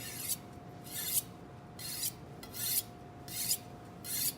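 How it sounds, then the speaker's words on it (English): Blade stroked across a diamond dust sharpener, five or six evenly spaced gritty rasping strokes, close and moderately loud, over a faint steady hum. "this will actually take metal off of your blade and sharpen it, the edge"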